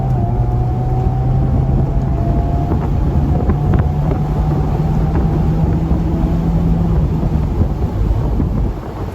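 A Mercedes-Benz SLK230 roadster with an automatic gearbox and 2.3-litre supercharged engine accelerating hard in sport mode, a steady loud drone with a slowly rising tone, heavy wind and road rush throughout, no talking.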